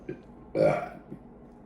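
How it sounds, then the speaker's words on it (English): A single loud, drawn-out belch rises abruptly after a short breath, standing alone close to the listener. "The American belch."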